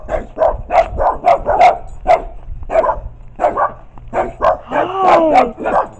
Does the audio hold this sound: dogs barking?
yes